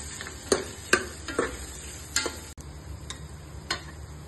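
Onions fry in a pan with a low steady sizzle, broken by a handful of sharp clicks and scrapes from stirring.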